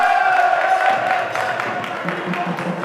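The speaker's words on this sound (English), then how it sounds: "13 points. A round of applause." Audience at a university gas-industry quiz competition applauding and cheering, a dense crowd roar of clapping with scattered whoops that stays steady and fairly loud over a few seconds.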